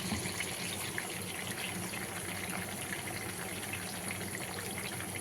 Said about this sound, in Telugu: ఇప్పుడు నేను టమాటాలు కడిగేసుకుంటున్నాను.